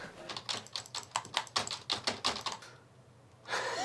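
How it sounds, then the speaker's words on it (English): Rapid clattering keystrokes on a computer keyboard in an indoor office setting, a steady run of close taps that stops for a short pause before another burst of noise begins. "I typed so much onto this keyboard"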